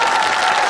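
Crowd applause at a traditional pumba performance festival, a brief, dense and steady wash of clapping, loud and close.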